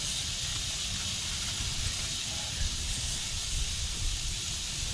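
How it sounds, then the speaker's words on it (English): Real and plant-based Impossible burger patties sizzle on a grill, a steady close hiss broken by small pops, with no talking. "Both kinds drip and sizzle and pop like they're supposed to."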